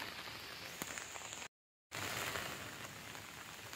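Steady rain hisses down onto a village pond overgrown with algae, a dense even patter with scattered closer drops, broken by a brief silent gap.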